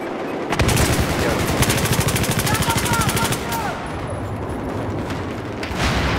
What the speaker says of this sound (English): Oh, they shot my MAV.